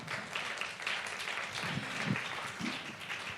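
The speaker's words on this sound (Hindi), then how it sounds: "एक बार जोरदार तालियों से स्वागत कर दीजिए।" An audience at a live political event applauds to welcome a speaker, a soft, steady wash of clapping that holds for a few seconds at moderate distance.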